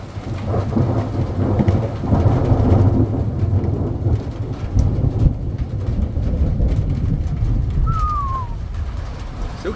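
Thunder rumbles and cracks through a strong thunderstorm with hail near Grenoble in the Alps, a heavy low roar over steady rain, with one brief high whistle partway through.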